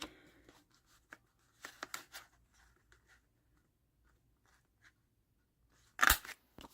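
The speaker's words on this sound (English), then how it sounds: "You can always cut the little notch in there." Scissors snip a small notch in cardstock for a paper pocket, a few short dry crisp cuts scattered through near silence, with one louder close snip near the end.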